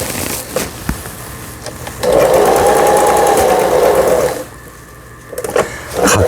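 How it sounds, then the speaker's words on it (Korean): A Lion Excel 15s sewing machine, recently repaired, runs in a fast, steady whirring stitch for a couple of seconds, with quieter mechanical clicks before and after. "오랜 세월이 흘렀지만 정상적으로 박음질되고 있습니다"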